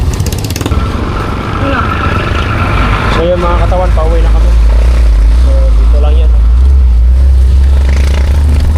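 A motorcycle engine in Tawi-Tawi rumbles steadily and close, a low continuous drone growing slightly louder, while people talk over it throughout.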